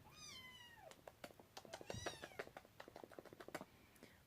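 A pet cat meows several times in quick, rising and falling calls, close and fairly loud, followed by softer short chirps and rustling.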